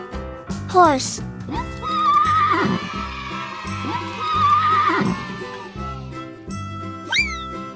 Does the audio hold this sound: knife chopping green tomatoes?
no